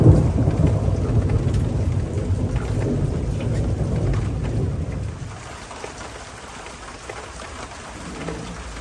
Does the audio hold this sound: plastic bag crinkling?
no